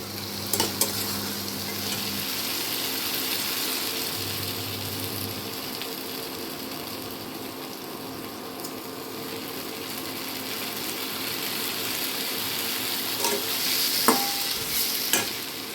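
Eggs fry with tomato in a pan while being stirred, a continuous close sizzle broken by scraping spoon strokes and a few sharp clinks against the pan.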